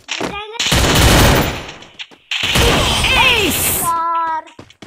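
Loud, sustained bursts of gunfire fill a shooter video game, two long rattling volleys separated by a brief gap, with short sharper shots and electronic game effects around them.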